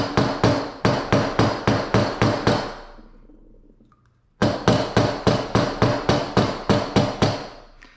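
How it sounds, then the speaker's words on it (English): A rawhide mallet strikes a metal tube rivet to flatten it, giving sharp, evenly spaced blows in two quick runs of about eight hits each, separated by a short pause. "the reason for using a rawhide mallet here is to try not to, so I'm not marring the metal"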